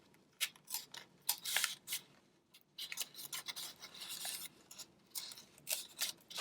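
Scissors cut through paper for a cat-shaped bookmark craft, with clusters of close, crisp snips and rustling, broken by short pauses, and no talking.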